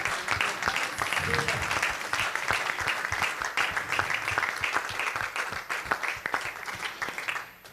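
Church congregation applauding and cheering in praise, dense sustained clapping with shouts of joy filling the room for several seconds.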